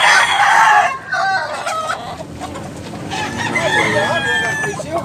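A Boston Japon gamecock crows loudly and close by in a Cebu poultry yard, the long cock-a-doodle-doo call sounding twice over clucking and other fowl noise.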